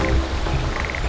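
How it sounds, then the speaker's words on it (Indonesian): Red-eyed tree frog (Agalychnis callidryas) calling in the rainy season, a short series of repeated clicking croaks set against steady wet ambient background noise. "sang jantan akan mengeluarkan suara panggilan untuk menarik perhatian betina"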